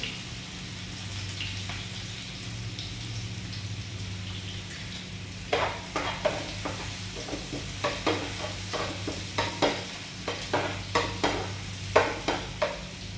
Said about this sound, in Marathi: हे कांदो घालात, आणि करपील